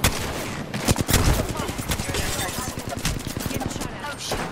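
Loud, rapid gunfire from an Apex Legends match rattles on almost without a break, with dense bursts and overlapping shots throughout.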